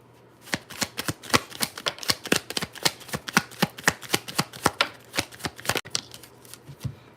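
Tarot cards riffled and shuffled by hand in a quiet room, a steady run of about twenty crisp, close flutters and snaps with no talk.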